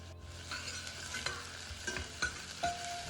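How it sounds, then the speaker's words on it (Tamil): Onion, cardamom, curry leaves and crushed ginger sauté in oil, a soft sizzle broken by several short stirring scrapes of a spoon against the pan, with no talking. "எண்ணெயில் கொஞ்சம் வெங்காயம், ஏலக்காய், கருவேப்பட்டு போட்டு அதோட இஞ்சி வெங்காயம் இடிச்சதையும் போட்டு கொஞ்சம் நேரம் வதக்கி கொண்டு"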